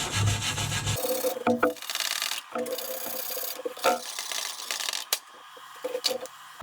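Welds on a homemade dry sump oil pan being cleaned, with close scraping and rubbing strokes in irregular bursts separated by brief pauses and sharp clicks.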